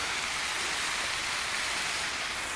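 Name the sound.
park fountain splashing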